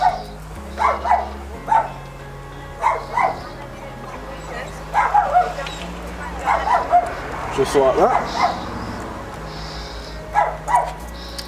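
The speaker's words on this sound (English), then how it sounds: "sorry about my dog." A dog barks and yips repeatedly in short bursts while a person keeps talking nearby during a trailer wheel bearing replacement.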